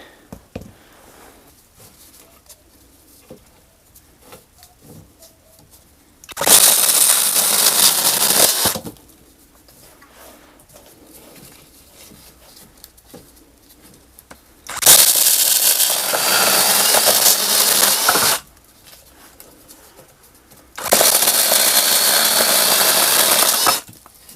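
A Procraft PKA44 chainsaw roars loudly in three separate bursts of several seconds each, cutting through wood, with quiet near-silent gaps between runs.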